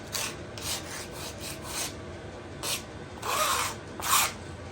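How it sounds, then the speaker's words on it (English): A wire brush scrapes crud off an old Deckel FP1 clone mill during a rebuild, making repeated harsh, raspy strokes of uneven length, close and fairly loud. "Got to do a scrape off with the crud to start with. A good wire brush."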